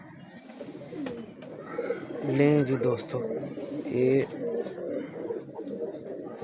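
Pigeons of the Teddy breed coo in repeated soft, throaty bursts close by, with someone talking over them between the calls.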